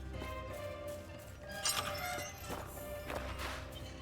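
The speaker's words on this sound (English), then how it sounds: "Let's shatter it immediately." A glassy, crystalline shatter effect for breaking an item in the Last Epoch action role-playing game, heard as bright clinks and a crash above a steady game music bed.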